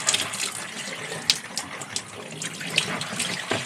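Tap water runs steadily while rags are washed and scrubbed in a sink at home, a continuous close splashing flow with a few sharper drips and clinks.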